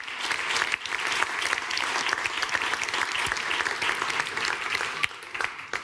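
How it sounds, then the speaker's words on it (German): An audience applauds at the KlarText science communication award ceremony in 2023, with steady, dense clapping at a constant level and a few louder claps standing out near the end. "Nochmal ein Applaus."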